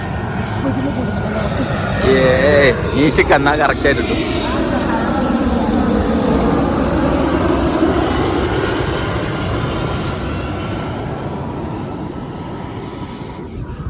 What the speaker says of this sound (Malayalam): ജീവിതത്തിൽ ആദ്യമായിട്ടാണ് ഞാൻ ഫ്ലൈറ്റ് ഇറങ്ങണ കാണുന്നത്